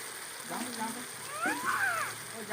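Ginger-garlic paste, chilli powder and cumin powder sizzle and spatter in hot oil, a close, faint crackle with a few stirring scrapes, while someone speaks over it.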